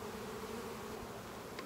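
Honeybees hum in a steady, close, low drone around brood frames filled with capped brood and pollen as a hive is inspected, continuous and unbroken throughout.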